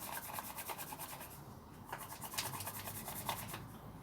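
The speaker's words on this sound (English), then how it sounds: "if you just get hold of them and rub them like that," Dried chili peppers are rubbed between the hands to shake out the seeds, making a soft, dry, crackly scratching that rises and falls in quick rhythmic pulses, close by and fairly quiet.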